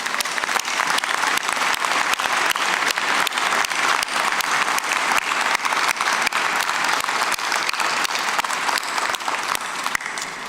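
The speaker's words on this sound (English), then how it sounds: "he deserves a big round of applause" Strong, steady applause fills a hall at a Carleton University convocation ceremony, many hands clapping close and continuous for the full length without speech.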